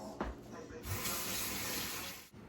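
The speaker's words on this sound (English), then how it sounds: "adding like a cup of water." A cup of water is poured into an Instant Pot alongside chicken breast, a steady splashing, hissing pour that runs close and loud for about a second and a half before cutting off.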